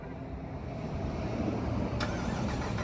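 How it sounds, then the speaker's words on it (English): A 2026 Jeep Wrangler Rubicon 392 MOAB Special Edition with a V8 is remotely cold-started, its engine settling into a dense, steady, rumbling idle heard close and fairly loud, with a brief click partway through and no talk. "let's go ahead and do a remote start on this"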